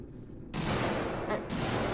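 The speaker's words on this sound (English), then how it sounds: "What are they shooting at?" Gunfire rings out in the Alien Isolation video game, coming as a loud, dense burst of shots that stops briefly and then starts again, with no voice over it.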